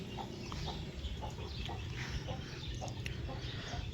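Chickens cluck softly in a rural yard after rain, scattered quiet calls over a steady low background hum, fairly distant and faint.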